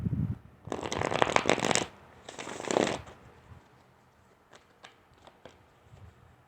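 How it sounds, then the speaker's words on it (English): A deck of tarot cards is shuffled in two quick riffling bursts close by, followed by a few soft, separate flicks and taps as cards are drawn and laid out. "We'll pull 3 cards."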